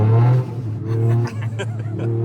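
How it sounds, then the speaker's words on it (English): A Toyota GR Yaris turbo engine drones steadily on snow, low and loud from inside the car, dipping and rising slightly with faint turbo whistle and a voice speaking over it. "But you also hear the turbo a little bit."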